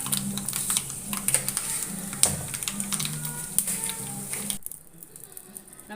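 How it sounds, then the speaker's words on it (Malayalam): Mustard seeds crackle and pop in hot coconut oil for a sambar tempering, sharp irregular snaps over a bubbling sizzle, fairly close, with someone talking underneath before the sound drops away. "വെളിച്ചെണ്ണ ചൂടായിട്ടുണ്ട് അതിലേക്ക് കടുകിട്ട് കൊടുക്കാം കടുക് ഒന്ന് പൊട്ടി വരുമ്പോഴേക്ക്"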